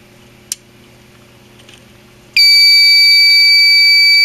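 A fire alarm suddenly blares after a quiet stretch with a single click, settling into a loud, continuous electronic buzz-tone that holds steady to the end.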